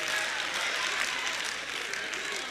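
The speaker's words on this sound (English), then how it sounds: "And ladies, y'all stop clapping" A church congregation applauds during a sermon, a dense, steady wash of clapping filling the whole stretch at close range with no break.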